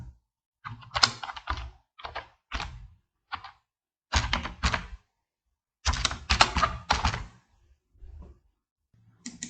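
Keys clatter on a computer keyboard while text is typed into a thumbnail design in editing software, coming in irregular bursts of quick taps separated by short pauses, close and alone with no talking.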